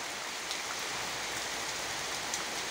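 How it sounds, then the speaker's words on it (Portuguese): Steady rain pours onto a jackfruit tree in Alagoas, Brazil, a dense, even hiss of drops on leaves with no voices. "Agora acredite se quiser, mas aqui é chuva em Alagoas"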